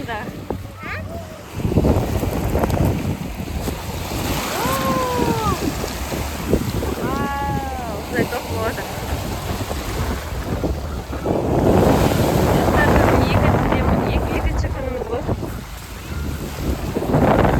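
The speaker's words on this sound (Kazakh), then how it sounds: "Толқын келе жатыр. Қатты толқын келе жатыр." Strong wind gusts and waves roll across Lake Alakol, a steady loud roar of wind buffeting the microphone with surf beneath, while voices call out briefly in the middle.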